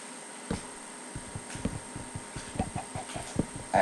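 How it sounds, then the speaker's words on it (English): Chicken clucking in the Minecraft video game, a series of soft short clucks and blips repeating at an uneven rhythm, faint and close, with no voices. "I just heard a chicken."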